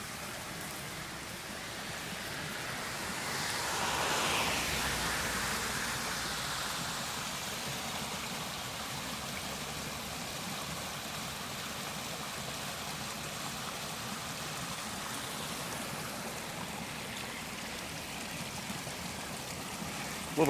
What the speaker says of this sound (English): And then that's flowing like a waterfall.